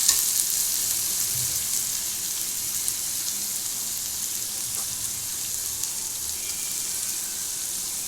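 Tomatoes with curry leaves and coriander sauté in hot oil for a brain fry, a steady, even, close sizzle running unbroken throughout.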